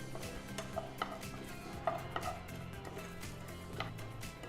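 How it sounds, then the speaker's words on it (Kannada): A spoon stirring coriander seeds, cumin and red chilli frying in a pan, quiet scraping and a few light metallic clinks at intervals, faint and close. "ಇದು ಮೆಣಸು ಸಹ ಇದಕ್ಕೆ ಹಾಕಿ ಫ್ರೈ ಮಾಡ್ತೇನೆ"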